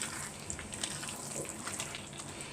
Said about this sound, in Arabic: هنزل بشويه من الشوربه